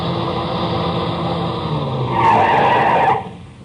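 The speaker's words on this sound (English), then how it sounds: "I heard the whine of a car coming over the rise in the rough road" A car coming over a rise on a rough road and skidding to a stop in a radio drama effect: a steady loud engine whine swells into a harsh tire squeal, then cuts off abruptly.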